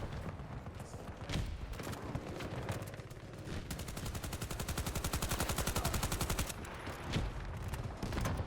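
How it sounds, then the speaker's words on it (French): Gunfire and explosions from the shooter game Battlefield 2042: dense bursts of shots, then a long rapid machine-gun stream, with heavy booming blasts punctuating it, loud and continuous with no talk. "Explosion."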